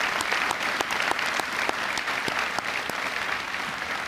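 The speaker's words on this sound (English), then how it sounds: "Please give a round of applause." A crowd at a high school graduation ceremony claps steadily at moderate volume, with sharp individual claps standing out over a continuous wash of applause.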